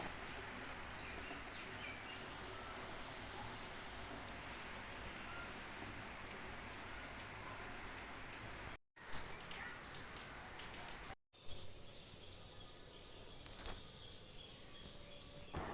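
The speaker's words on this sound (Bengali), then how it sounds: "সকাল 7টাতে দেখো কেমন জোরে জোরে বৃষ্টি হচ্ছে" Heavy early-morning rain pours down in a steady, dense hiss that fills the whole stretch, with faint bird calls and insects in the background and two brief cuts to silence.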